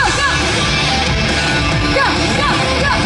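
A crowd at an outdoor concert during a cherry blossom festival in Kaohsiung screams and whoops, a loud wash of overlapping yells with a few rising shrieks piercing through.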